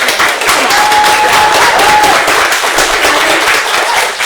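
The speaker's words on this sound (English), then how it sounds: "Big round of applause" Audience applauding the writer at a screening of The Mushroom Prince, dense steady clapping from a sizable crowd close by, with a brief whistle rising through it.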